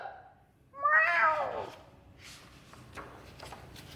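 A single cat meows once, a clear rising-and-falling cry up close, followed by faint shuffling and small rustles in a quiet room.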